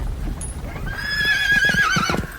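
Horses in an audio drama neigh in a long, loud whinny over steady clip-clopping hooves, close and continuous, with a short squeak or creak before the neigh.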